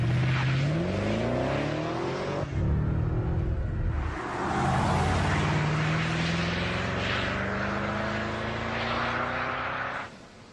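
Engine of a BMW 6 Series rumbling close up in a quiet test setting, rising and falling revs with a deep droning tone and a few surges before it fades out.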